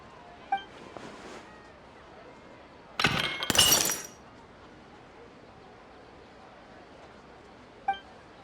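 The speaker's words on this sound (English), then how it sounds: "Look at that vase. Did someone break it while they were cleaning the room or something?" A vase shatters in the video game Genshin Impact, a sudden loud burst of breaking glass lasting about a second amid quiet ambience, with faint chiming tones before and after.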